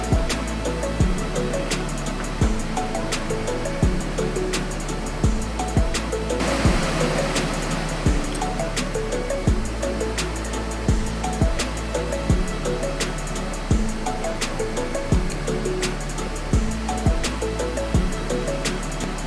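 A Panasonic ECONAVI fully automatic washing machine on its spin cycle gives a steady droning hum with a regular soft thump about every second and a half, continuous and close, with no voices.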